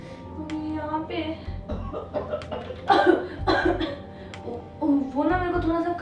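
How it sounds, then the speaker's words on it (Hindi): A woman with a slight cough lets out several short coughs in a home, with voiced, chuckle-like sounds in between. The louder bursts come near the middle and end. "वो ना मेरे को थोड़ा सा खांसी हो गई है ना तो इसीलिए"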